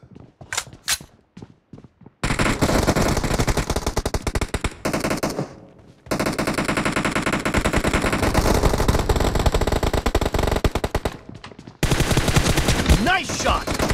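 Gunfire in BGMI, a mobile battle-royale game, during a team deathmatch: long, dense bursts of automatic weapon fire broken by short pauses, loud and close, after a few single shots at the start.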